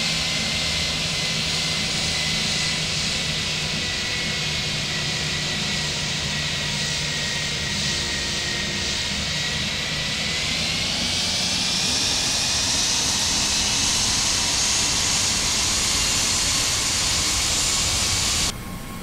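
Airbus A320 with IAE engines in a flight simulator takes off, a steady loud jet engine roar with a high whine that rises in pitch partway through as thrust builds, continuous throughout with no talk.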